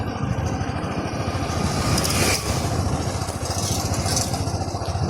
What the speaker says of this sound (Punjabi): ਮੋਟਰਸਾਈਕਲ ਆਉਂਦਾ